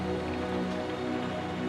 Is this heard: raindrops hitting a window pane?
yes